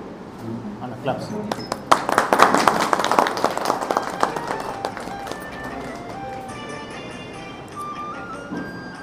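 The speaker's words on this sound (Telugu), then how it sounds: "క్లాప్స్" An audience claps in a brief burst that builds and then thins into scattered claps, with voices talking over and after it.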